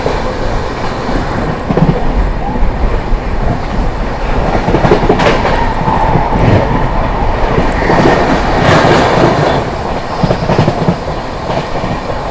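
A Humsafar Express train overtaking another express train at speed, heard from aboard: a loud, continuous rumble with rhythmic wheel clatter and bursts of rushing noise, with no talk.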